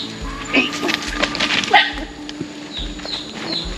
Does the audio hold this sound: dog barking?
yes